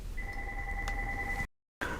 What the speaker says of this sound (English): So of course I just let my answering machine just pick up and answer the phone for me.